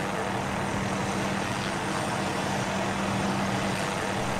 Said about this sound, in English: Just turn the engine off so we can actually hear each other talk.